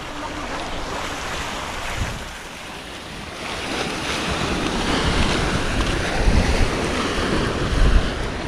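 Strong sea waves surge and break under gusting wind near a boat during an approaching typhoon, a loud continuous wash with heavier swells toward the end and wind buffeting the microphone.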